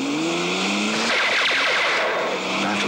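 Race cars speed past and skid, with a loud, continuous engine roar and tire squeal that swells through the middle of roughly three seconds.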